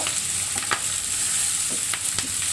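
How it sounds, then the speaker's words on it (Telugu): Moringa leaves frying lightly in a pan for a healthy breakfast dish, a steady close sizzle with a few soft stirring scrapes on top. "ఇప్పుడు మునగాకును కూడా వేసుకొనేసి లైట్గా వేయించుకోవాలి."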